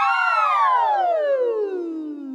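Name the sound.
voices imitating a siren in a singing warm-up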